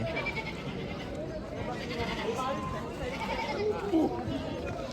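Goats tied up at the crowded Chakan livestock market for Bakri Eid bleat intermittently, their cries mixed into steady crowd chatter and nearby talking.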